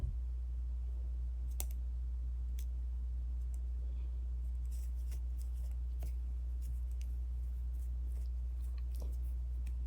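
Knitting needles click softly while working linen stitch, light irregular ticks over a steady low hum, close and quiet, without speech.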